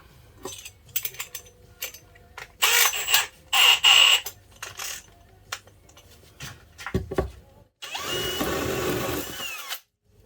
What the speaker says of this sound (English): We'll drill a couple of holes and we'll show you what they can do.